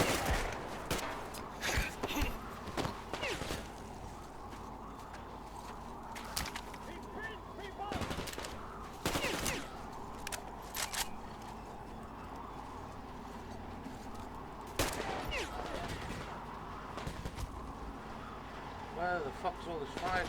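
Dense, chaotic gunfire in a Metro Exodus firefight, with repeated sharp shots and bursts over a constant rumbling background, loud and close.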